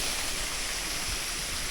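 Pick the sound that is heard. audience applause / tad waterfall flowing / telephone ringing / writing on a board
tad waterfall flowing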